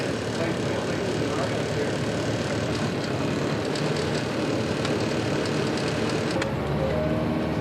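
A small propeller airplane drones steadily and loudly close by, its engine noise continuous throughout with no talk, on a flight in Alaska where many residents fly themselves to work.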